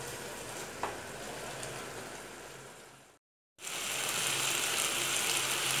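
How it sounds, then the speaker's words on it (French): Shrimp and vegetable sauce simmering in a pan while being stirred, a steady soft bubbling hiss broken by a brief silent gap, fairly quiet and close, with no voices. "Je remue bien et je laisse mijoter."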